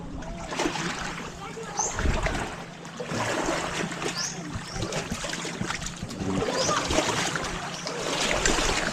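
Big ocean waves wash and splash around a boat off the coast near a house, a steady rushing surge with broad broken-water noise through the whole stretch, with people talking faintly now and then.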